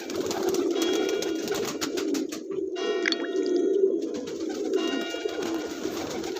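Pigeons coo steadily in a winter setting, a continuous rumbling coo chorus close by, with soft chirps and flutters scattered throughout and no talking.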